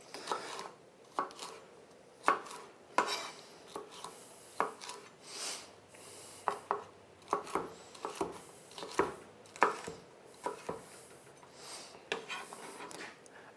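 A knife chopping salad ingredients for a Thai peanut sauce salad on a cutting board, making a series of sharp, close, irregular cuts spread over several seconds with short pauses between them.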